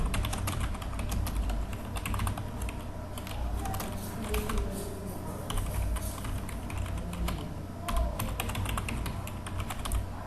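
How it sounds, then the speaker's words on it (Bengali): Someone types a website address on a computer keyboard: a steady, close run of quick plastic key clicks with brief pauses, with no voices heard. "সাইটটার লিঙ্ক অ্যাড্রেস আমি এখানে লিখে দিচ্ছি।"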